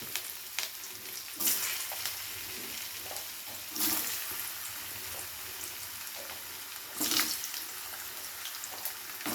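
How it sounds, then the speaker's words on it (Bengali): Potatoes fry in spiced oil with a continuous low sizzle, broken by three louder bursts of hissing and scraping as they are stirred, heard close with no talking. "আলুটাকে প্রথমে একটু ভাজা ভাজা করে নিতে হবে।"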